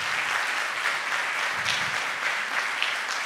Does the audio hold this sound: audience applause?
yes